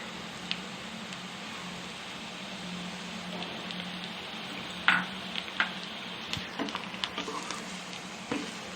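Curry leaves and coriander sizzle in a pan with mashed potato koonipodi, a steady soft frying crackle with a few sharper pops and stirring scrapes toward the end.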